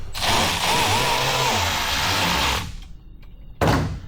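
A power tool buzzes loud and steady for a couple of seconds while tightening a part on a Factory Five XTF chassis, stops, then gives one brief final burst.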